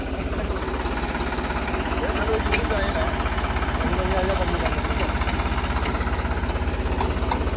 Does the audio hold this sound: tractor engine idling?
yes